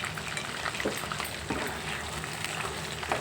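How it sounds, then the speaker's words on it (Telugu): Green chillies and spice leaves fry in a pan for a chicken masala curry, giving a steady, close, fairly quiet sizzle with a few brief crackling bursts, without talk. "అలాగే పచ్చిమిర్చి కూడా వేసుకుందాం ఇదిగోండి పచ్చిమిర్చి అలాగే మసాలా ఆకులు"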